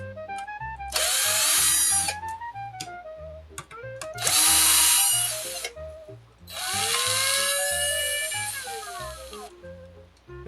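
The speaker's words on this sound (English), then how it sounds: "Let's use the drill." A cordless power drill spins out screws from arcade PCB hardware in three loud whirring bursts separated by short pauses, alone and close by.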